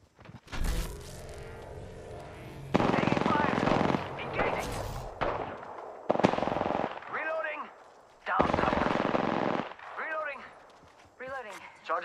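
Automatic gunfire from the battle royale game Apex Legends: loud, repeated bursts of rapid shots separated by short pauses, mixed with chirping electronic game effects.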